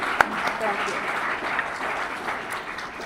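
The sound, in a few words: round of applause at a change of command ceremony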